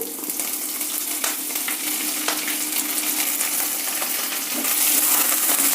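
Urad dal, chana dal, chopped ginger, curry leaves, cumin and green chillies frying in oil as the tempering for rava idli, a steady close crackling sizzle with faint stirring clinks, no talk.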